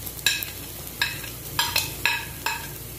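Sliced onion frying in sunflower oil in a hot pan, heard as a steady quiet sizzle with five evenly spaced, sharp stirring scrapes about every half second and no talking.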